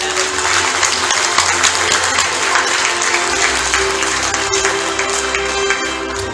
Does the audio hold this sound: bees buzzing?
no